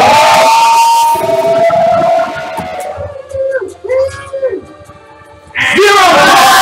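Game show audience cheering loudly during a live-streamed show, a dense crowd roar that drops away midway into quieter voices and clatter, then surges back at full strength.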